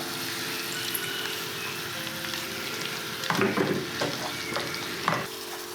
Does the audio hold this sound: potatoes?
yes